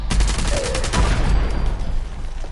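Rapid burst of Elder's Mark rifle shots from Fallout 76, a dense, loud volley of gunfire with close repeated reports over the full stretch, no talk.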